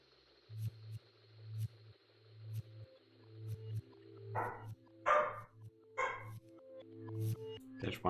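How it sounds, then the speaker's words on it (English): A dog barks in repeated short bursts, moderately loud and fairly close, with a low steady hum running underneath. "There's one very serious dog has strong opinions right now."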